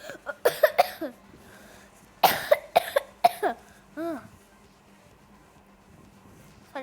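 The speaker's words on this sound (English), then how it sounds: "Sorry for that. Lots of cough." A person coughs in two short bursts of several harsh, close coughs each, separated by a pause, followed by a brief throat noise, with quiet background between.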